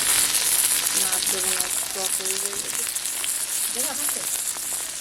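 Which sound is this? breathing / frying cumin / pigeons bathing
frying cumin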